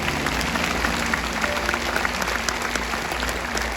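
A church congregation claps along during a joyful gathering, a steady wash of hand-clapping with a low rhythmic hum and faint crowd noise beneath.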